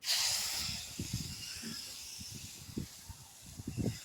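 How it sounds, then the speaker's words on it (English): A car wash soap gun spraying suds over an Audi TT Quattro with a soft top, a steady close hiss that starts loud and then carries on beneath softer low thumps and handling noise. "This next part is incredibly simple. It's just soap gun."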